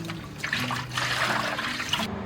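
Running water splashes over boiled chicken feet as they are rinsed, a close, lively trickle and spatter lasting a couple of seconds.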